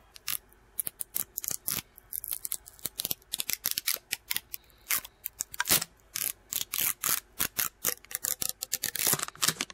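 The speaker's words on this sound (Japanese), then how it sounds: "はい、フィルム開封しました。" Plastic film wrap being torn and peeled off a gashapon capsule for a Kamen Rider Zi-O GP Ridewatch 04 toy, heard as a long run of close, crisp crinkles and snips in rapid irregular bursts with no talking.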